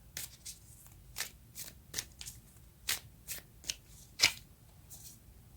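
Tarot cards shuffled by hand at a reading, a run of about a dozen crisp riffling and slapping bursts, each brief and close, with quiet gaps between them and no talking.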